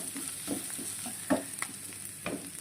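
Tapioca and chicken mixture being stirred in a frying pan, with a steady sizzle under several soft scraping strokes of the spoon.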